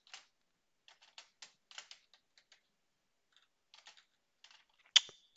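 Typing on a computer keyboard during a PowerShell session, heard as sparse, faint bursts of clicks with pauses between them and one sharper key strike near the end.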